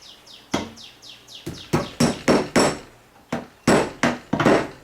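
Sharp hammer blows drive a nail into the frame of a rush-seat chair turned upside down, a dozen or so loud wooden knocks in uneven bursts with short pauses, up close and with no talking.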